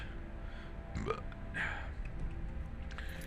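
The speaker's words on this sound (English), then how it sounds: "I keep burping." A single short burp from a person, fairly close, with a brief second throaty sound after it over faint background noise.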